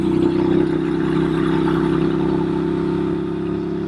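A 2014 Norton Commando 961 SF motorcycle engine runs loud and close, a steady throbbing drone that eases slightly toward the end as the gear changes.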